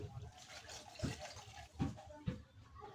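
Water is poured into a cooking pot, a soft steady splashing stream with a few louder gurgles and thumps while cooking, heard at close range and at low volume.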